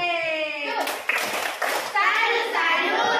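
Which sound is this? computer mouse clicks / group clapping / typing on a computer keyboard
group clapping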